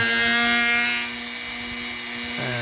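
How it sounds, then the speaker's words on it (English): A drill bores into material on a homemade DIY mini mill, a loud steady whining tone with a shift in pitch near the end, alone without speech. "I went a little too deep here with the drill."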